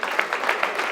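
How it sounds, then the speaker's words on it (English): Brief burst of audience applause at a conference, a dense crowd clapping loudly throughout with no pause. "Yeah, y'all can clap."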